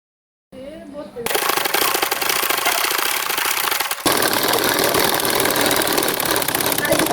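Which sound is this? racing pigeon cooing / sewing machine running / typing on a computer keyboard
sewing machine running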